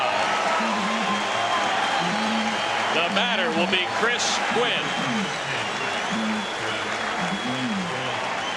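A baseball stadium crowd rises and applauds pitcher Dennis Martinez during his 1991 perfect game, a broad, sustained roar of clapping and cheering heard from a distance while an announcer talks over it.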